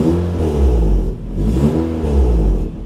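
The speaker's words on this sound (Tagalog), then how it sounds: "Naririnig nyo ba na para siyang merong sumisingaw?" A car engine revs in three swelling surges, each climbing and then easing off, with a leaky, noisy exhaust that sounds rough and close. No one speaks.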